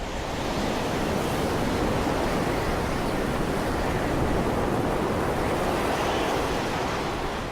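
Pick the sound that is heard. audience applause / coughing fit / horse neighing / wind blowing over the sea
wind blowing over the sea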